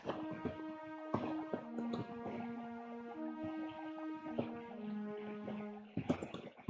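A soft orchestral string preset from the Sytrus synth in FL Studio, its volume attack shortened, plays a sustained pad melody of gliding held notes, quiet and smooth with no voices.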